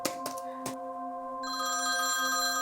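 A telephone rings indoors at night, with a steady electronic ringtone holding sustained tones after a few sharp knocks at the start, moderately loud and alone.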